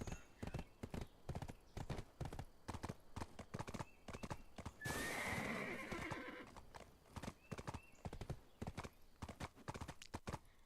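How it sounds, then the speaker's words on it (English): Steady clip-clop of horse hooves trots along in the video game Black Desert Online, broken midway by a loud, drawn-out whinny, then the hoofbeats continue. "I'm gonna stable this horse at the Western Guard camp."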